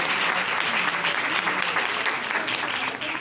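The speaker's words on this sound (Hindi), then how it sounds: "जोरदार तालियां" Loud, sustained applause from a church congregation during a Christmas sermon, dense clapping that holds steady before easing slightly at the end.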